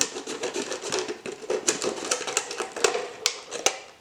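A plastic bottle being cut about 10 cm up from its base, heard as a rapid, irregular run of crisp snipping and crackling clicks close by, steady for several seconds with no talking.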